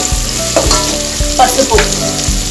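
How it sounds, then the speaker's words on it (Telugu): Ginger garlic paste and curry leaves fry loudly in hot oil for tomato bath, a steady close sizzle with a few stirring scrapes, and no voices. "కొంచెం అల్లం వెల్లుల్లి పేస్ట్, అలాగే కొంచెం కరివేపాకు,"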